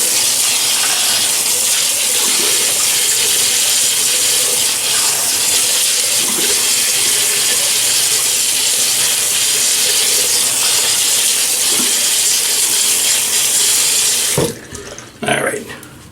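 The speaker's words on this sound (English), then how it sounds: "So let me wet the face." A tap runs steadily into a sink to wet the face before a shave, a continuous loud close rush of water that stops abruptly near the end, leaving brief handling sounds.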